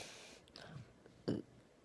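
A single short, low burp erupts near the end, preceded by a softer throaty noise, fairly quiet overall with no talking.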